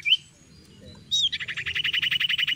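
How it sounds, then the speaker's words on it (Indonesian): A sirtu songbird from the forests of Indonesia sings loudly and close by. A few sharp opening whistles lead into a fast, steady train of repeated bright chirping notes. "mendengar suara kicau yang sangat nyaring, bisa jadi itu adalah burung sirtu"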